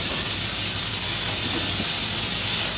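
A Sormac USM S60 onion peeler runs continuously while peeling onions, producing a loud, steady hissing rush of air or water with a constant mechanical roar underneath, no voices.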